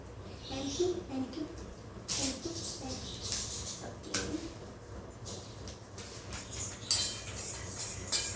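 A slime mixture of paste and powder is stirred in a bowl, giving scattered soft scraping and clinking taps, with a person talking throughout and a voice at times.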